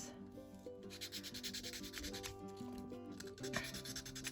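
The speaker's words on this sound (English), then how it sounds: "you can just kind of move the sanding belt around, and then you get to use the whole thing" A sanding stick rubs steadily along the edges of a plastic paint-pouring mould to remove moulding lines, giving a quiet, continuous scratchy rasp over soft background music.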